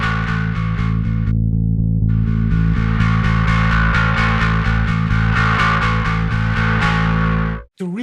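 Distorted instrument tone processed through the Anagram Entropia multiband distortion plugin, driven across the band from 250 Hz up to 20 kHz, playing steady repeated notes with a gritty, saturated edge, loud throughout before cutting off at the end.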